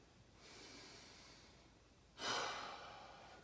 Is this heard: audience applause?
no